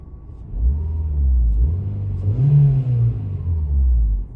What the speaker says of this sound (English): see, that was a good engine note